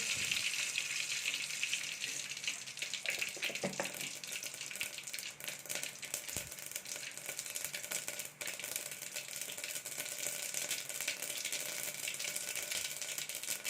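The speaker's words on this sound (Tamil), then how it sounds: "கடுகு நல்லா வெடிச்சிச்சு" Continuous crackling and sizzling of mustard seeds popping in hot oil, dense and steady with occasional sharper pops.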